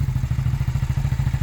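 A Suzuki SV650 motorcycle engine idles up close with a steady, even low pulsing beat and a light mechanical clatter, loud and alone.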